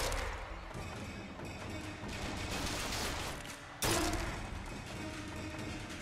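Gunfire in the shooter Bioshock Infinite: a continuous din of combat noise with scattered shots, then one sharp, loud report near the middle followed by more ongoing battle sounds.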